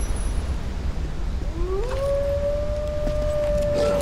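A single wolf howl from the video game Tomb Raider Anniversary rises smoothly and then holds a long, steady, clear tone over a low ambient hiss.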